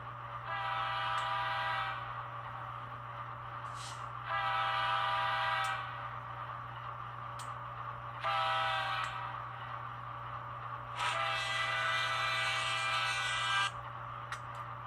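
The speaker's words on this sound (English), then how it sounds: "So it's a pre-recorded Doppler horn." An N scale model CN Dash 8-40CM locomotive plays a pre-recorded Doppler train horn in repeated bursts, alternating long and short blasts, over a constant low electric hum, fairly close and loud.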